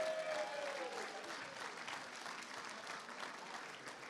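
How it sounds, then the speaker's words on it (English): Faint, distant applause from an awards ceremony audience of finalists, steady clapping across the whole stretch after a brief speaking voice at the start. "you're allowed to applaud yourselves"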